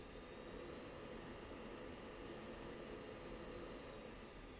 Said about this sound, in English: We'll do a burner takeoff.